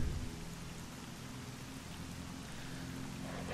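Steady rain falls in STALKER: Call of Pripyat, an even hiss of rain with no break and no voices.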